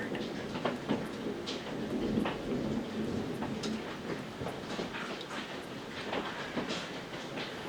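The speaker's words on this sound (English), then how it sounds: "it's hailing" Hail falls outside as a dense, steady patter with scattered sharp ticks of stones striking, a constant broadband rush at moderate level with no voices.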